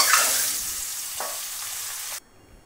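Eggs frying in hot oil in a pan for egg biryani give a steady, close sizzling hiss with a brief stirring scrape midway, and the sizzle cuts off abruptly near the end.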